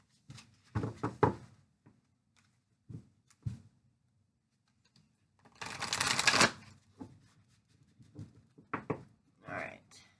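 Cards are shuffled in several quick riffling bursts, one long and loud in the middle, separated by soft taps and handling noises.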